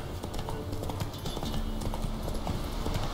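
Rhythmic clip-clop of horse hooves while riding along a path in the video game The Witcher 3, steady and close, with a low background hum.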